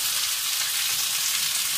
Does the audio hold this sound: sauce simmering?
yes